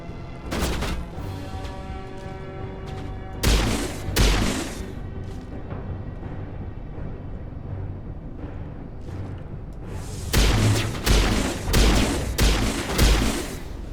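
Gunfire in the game Mass Effect 1 Legendary Edition: sharp, loud shots in short clusters, with a pause of quieter ambience between the volleys and no talking.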